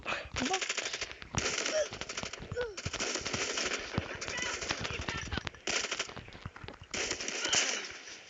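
Video game gunfire comes as repeated bursts of rapid automatic shots broken by short pauses, loud and close, with brief game sound effects mixed in.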